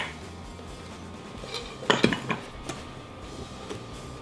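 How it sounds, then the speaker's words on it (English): A whisk scrapes and taps around a bowl of dry cornbread ingredients (flour, sugar, baking powder, salt and cornmeal), with quiet brushing and a brief cluster of clinks near the middle, close by. "We're going to whisk this together."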